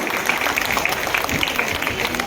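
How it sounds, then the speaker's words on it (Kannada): An award ceremony audience applauds, a dense patter of many hands clapping at moderate loudness, steady across the moment with crowd murmur mixed in. "ದಯಮಾಡಿ ದೊಡ್ಡ ಚಪ್ಪಾಳೆಯ ಮೂಲಕ ಇವರನ್ನೆಲ್ಲ ಬರಮಾಡಿಕೊಳ್ಳೋಣ"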